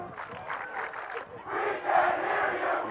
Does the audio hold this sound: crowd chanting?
yes